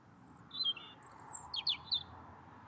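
Bright bird chirps and short tweeting calls come in small bursts over a quiet outdoor hush, a few birds calling from a moderate distance.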